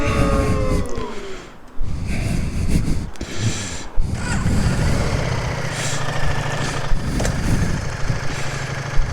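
A Ducati Diavel motorcycle idles on a cold morning, a steady low engine rumble close by, with some rustling and handling noises over it and no talking.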